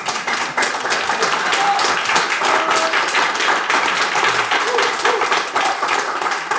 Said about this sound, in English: I think he deserves a stronger applause from you.